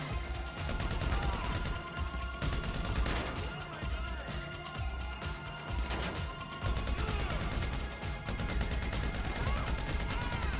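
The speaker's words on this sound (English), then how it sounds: "Shooting this guy up, he should be dead." Gunfire from a shootout in GTA 5 Online, with a machine gun in use: dense, steady bursts of shots throughout, loud and close, with a few crashing impacts and a voice heard now and then under the shooting.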